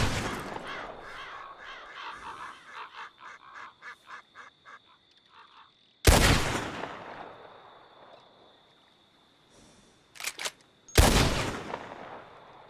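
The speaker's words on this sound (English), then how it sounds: "Here we have an open landscape, and we are going to use our repeater rifle." Repeater rifle shots in an open landscape in Red Dead Redemption 2, two loud sharp cracks each trailing into a long echoing reverb tail, with fainter outdoor bird calls and rhythmic clatter at the start.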